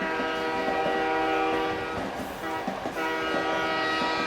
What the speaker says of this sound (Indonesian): aku merasa aneh karena keretanya memasuki sebuah terowongan